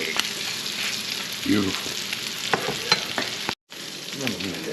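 Crab cakes fry in a hot pan with a loud, constant sizzle and crackle that briefly stops, while a person talks over the cooking.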